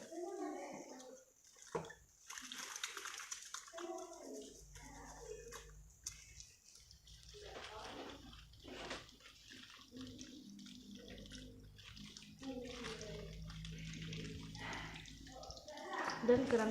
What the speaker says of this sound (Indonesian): dan mencuci tangan 6 langkah di bawah air mengalir.